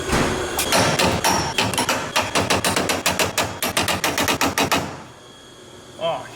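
A hammer pounds on a Nissan 240SX during a MIG welding repair, a rapid run of loud, close metallic blows for several seconds that stops abruptly, followed by a brief faint sound.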